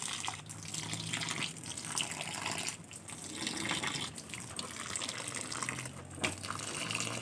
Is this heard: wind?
no